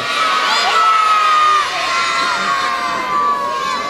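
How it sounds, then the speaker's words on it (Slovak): A large crowd of children shouts a name together, loud and sustained, with cheering voices at a St. Nicholas celebration in the castle park in Malacky, Slovakia. "Zavolajte deti nahlas."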